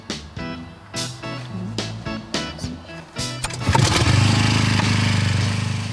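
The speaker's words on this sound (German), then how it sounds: "Die Pumpe läuft fast rund um die Uhr." A well pump for irrigating a drought-parched field in Mecklenburg starts up with a series of loud mechanical clanks and knocks, then settles into a steady, droning motor hum close by.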